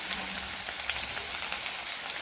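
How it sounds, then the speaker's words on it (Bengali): Onions frying in hot oil with fennel seeds, giving a steady, dense sizzle that holds level from start to finish with no voices. "তো একটু ভাজা ভাজা হয়ে আসছে"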